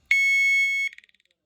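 A fire alarm's loud, steady electronic tone holds for under a second, then breaks into a quick series of fading beeps.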